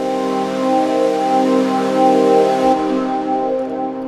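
A mid-range ambient synth pad with the lows filtered out holds a steady, airy chord with a soft noisy wash, loud and continuous before thinning out near the end.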